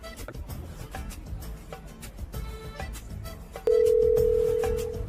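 A mobile phone places a call to a friend: soft taps and faint background noise come first, then a loud, steady ringing tone that fades a little at the end.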